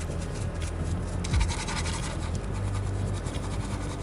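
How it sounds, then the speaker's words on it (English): Salt is scrubbed off a painted sci-fi diorama model with a steady, gritty, close-up scratching and rubbing, continuous and fairly loud, with no voices. "The salt was then scrubbed away"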